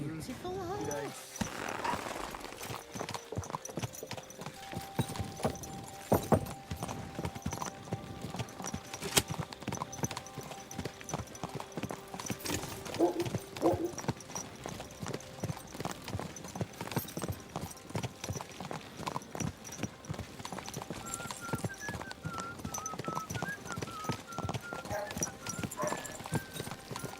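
A horse's hooves clip-clop in Kingdom Come: Deliverance II, a steady walking rhythm of close, distinct hoofbeats running throughout, with a brief whinny, game music and voices talking in places.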